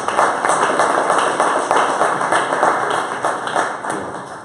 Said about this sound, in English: get a round of applause for them